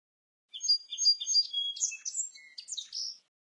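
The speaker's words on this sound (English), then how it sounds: "Sparrow." A sparrow chirps in a quick run of bright, high twittering notes lasting nearly three seconds, close and clear with no other sounds.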